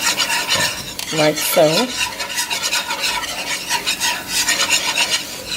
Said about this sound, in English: I'm going to whisk the flour into the butter